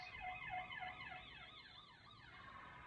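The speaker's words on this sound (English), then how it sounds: "that's the ambulance" A wailing emergency siren sweeps steadily up and down, fairly loud and continuous, with no voices.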